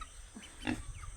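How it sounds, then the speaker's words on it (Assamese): A pig on a small family farm in Assam gives a couple of short, low grunts close by, faint over a quiet background hum. "এইটো আমাৰ প্ৰথম গাহৰিটো"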